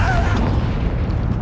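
A Confringo blast spell goes off in the Hogwarts Legacy video game: a dense, booming burst with a rumbling low end that stays full and loud throughout. A brief whistling streak rises at the start.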